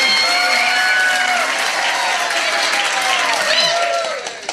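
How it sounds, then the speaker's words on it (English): Pub quiz crowd claps and cheers loudly for the winning team, a dense burst of applause with whoops and shouting voices throughout, tapering slightly at the end. "Give them a round of applause."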